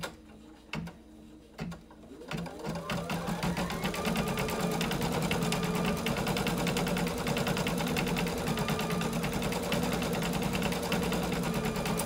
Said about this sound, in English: Now it's stitching out the fill stitch first